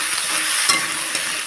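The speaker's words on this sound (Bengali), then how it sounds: "ডাঁটা আর বেগুন এইভাবে কেটে রেখেছি, দিয়ে ভালো করে ভাজা ভাজা করে নেব" Pieces of eggplant and drumstick frying in oil in a pan, a bright continuous sizzle with a brief stirring clatter partway through, no talking.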